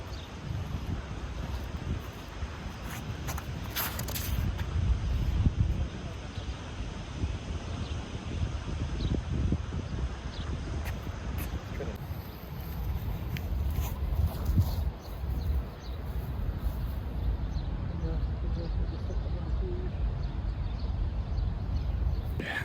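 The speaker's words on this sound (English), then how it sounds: "The wind's picking up." Wind blows across an outdoor disc golf course, a continuous low roar with gusty microphone buffeting that surges and eases throughout.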